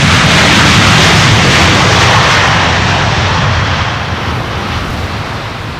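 A jet airliner lands in a stormy crosswind at Amsterdam Schiphol Airport, its engines roaring loudly and broadly up close, the roar slowly fading as it passes.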